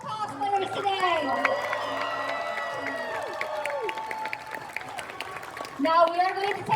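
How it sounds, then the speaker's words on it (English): A crowd at an anime festival costume contest claps and cheers for the cosplayers, with whoops rising over steady applause, while a loud voice talks through it on a PA. "Let's give a round of applause to all the cosplayers today."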